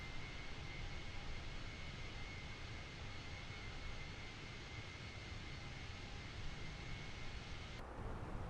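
Airbus A320 engines in Flight Simulator 2024, a constant low jet roar with a faint steady whine, heard as a continuous drone that cuts off abruptly near the end.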